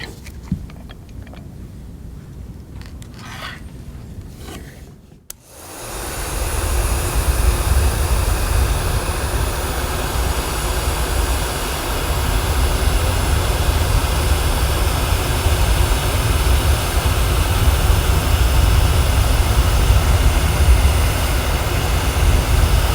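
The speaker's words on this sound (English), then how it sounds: "We're going to heat shrink this down" A heat gun blows on heat shrink tubing over a soldered 1/4 inch TRS to 3.5 mm TRS audio cable, starting around five seconds as a loud, steady, close roaring hiss that holds without a break until the end, with no talking.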